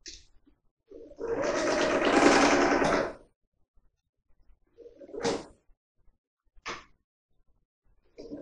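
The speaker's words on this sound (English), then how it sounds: "now we're just going to go to the sewing machine and stitch these together" A sewing machine runs a regular straight stitch joining fabric pieces for a Butterick 5137 performance dress, a steady two-second whir up close, followed by a few short clicks and rustles of handling.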